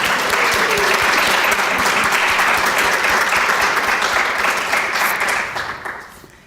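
Sustained audience applause at a keynote and welcome gathering, dense and steady for about five seconds before tapering off toward the end, with no talking over it.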